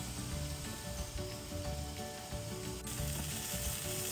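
Monkfish sizzles on a very hot griddle on a grill, a steady crackling hiss with faint mechanical ticking, continuous and fairly quiet, with no talk.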